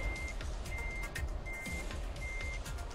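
A truck's reversing alarm beeps steadily in Euro Truck Simulator 2, four evenly spaced high tones over a loud low engine rumble, with no voices.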